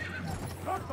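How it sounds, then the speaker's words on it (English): A horse charges into battle in Battlefield 1, with galloping and a snort or whinny rising briefly over a steady low engine-like hum and mixed game noise, all packed into one second under busy battle sound. "I wasn't told charging into battle with a sword on a horse was a thing."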